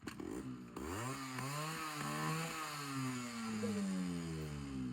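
An old two-stroke Yamaha RX100 motorcycle revs nearby, its engine pitch rising sharply from idle, then sweeping up and down through several throttle blips before easing into a raspy, buzzing hold, loud and with no voices.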